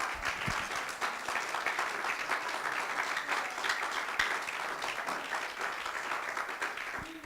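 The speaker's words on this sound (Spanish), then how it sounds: "otro aplauso al Espíritu Santo" Sustained applause from a church congregation during a Sunday service, honoring the Holy Spirit; a dense, even wash of many hands clapping that holds steady for several seconds at moderate distance.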